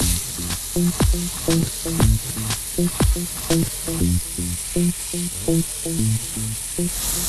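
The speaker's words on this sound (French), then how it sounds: "Un peu de beurre. On va laisser légèrement revenir de chaque côté du quartier." Clementine quarters fry in butter in a pan, a continuous close sizzle broken by sharp clinks and scraping taps of a utensil against the pan at an irregular rhythm.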